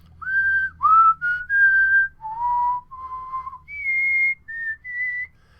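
A person whistles a tune alone and close up, a clear melody of about ten sustained notes that rise and fall with short pauses between phrases.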